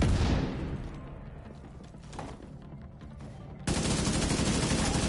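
Gunfire rings out in The Division 2 during a four-player co-op session: a loud, rapid volley at the start fades into quieter rattling, then a second heavy burst of automatic fire hits abruptly near the end.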